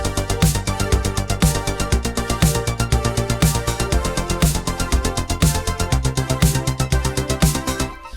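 A plain, steady synthwave electronic drum beat with a punchy kick and a snappy snare in a regular loop, loud and upfront, with no other instruments prominent.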